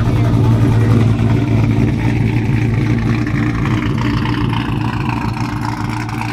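Cammed 6.2 V8 in an uncle's pickup truck, rumbling steadily with a deep low-pitched drone that eases slightly in level, heavy and close throughout with no clear separate revs.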